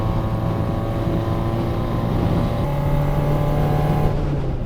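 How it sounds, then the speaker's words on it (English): A supercharged Mazda Miata climbs uphill on a winding road. Its engine holds a steady, loud, continuous drone heard from inside the car, with the pitch shifting slightly partway through and no talking. "this is where the Supercharger shines in a Miata, right here"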